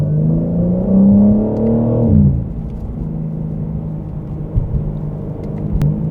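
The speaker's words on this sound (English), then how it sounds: "Oh, the exhaust is pretty loud inside" Exhaust of a 2022 BMW M4 Competition, heard from inside the cabin, drones loudly as the engine revs and then drops to a lower steady rumble.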